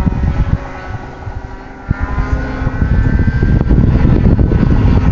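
Ugly Stick RC model airplane flying outdoors in a crosswind, its engine droning steadily with a rising whine that grows louder toward the end, over wind noise.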